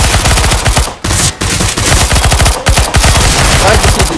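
Rapid bursts of PP-Bizon submachine gun fire in CS:GO, loud and close, with sustained automatic rattling broken by a few brief pauses.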